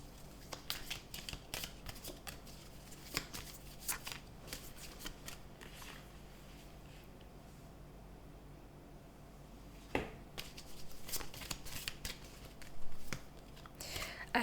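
Oracle cards are shuffled and laid down in soft, papery riffles and flicks, quiet and close, with a brief pause midway before the handling resumes.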